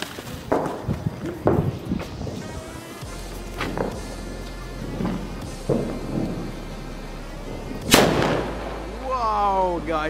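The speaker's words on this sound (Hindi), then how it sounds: "स्टार्टिंग अपन ये सूतली बम से करते हैं, देखो काफी बड़ा साइज का VIP है" A large VIP-size sutli bomb firecracker set off during Diwali celebrations bursts with one sharp, loud bang near the end, preceded by footsteps, scuffing and faint voices outdoors.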